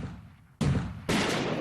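Two loud, close M1 Garand rifle shots a half-second apart, each a sharp blast followed by a sustained roaring tail, with no talking.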